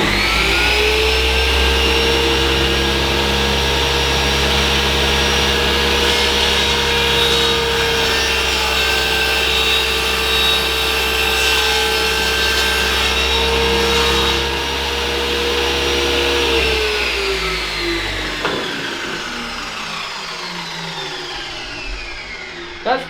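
A budget Jasper table saw rips through wood: a loud, steady motor whine with cutting noise holds for about seventeen seconds, then the pitch falls as the blade spins down.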